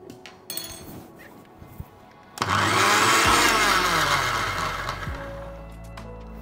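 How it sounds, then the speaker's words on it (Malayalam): A mixer grinder grinds coriander leaves into a fine paste for a grilled paneer marinade. A few light knocks come first, then the motor starts abruptly and roars loud and steady for about four seconds. "ഇത്രയും നന്നായിട്ടൊന്ന് ഗ്രൈൻഡ് ചെയ്തെടുക്കാം. നല്ല ഫൈൻ പേസ്റ്റ് ആയിട്ട് വേണം ഇത് ഗ്രൈൻഡ് ചെയ്യാനായിട്ട്."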